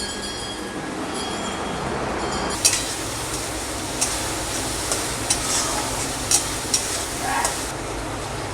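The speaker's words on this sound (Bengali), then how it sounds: "টমেটোটা পেঁয়াজটা ভাজা ভাজা হয়ে গেছে" Tomato, onion and spices sizzle in a pan for chicken kosha, a steady hissing fry broken by sharp spatula scrapes and taps at irregular intervals.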